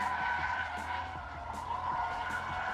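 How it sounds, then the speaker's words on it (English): Tires of a Mercedes-AMG GT four-door in drift mode screech in a sustained, wavering squeal over a low engine drone, loud and close with no talk. "you can turn the car from four-wheel drive to rear-wheel drive by selecting drift mode"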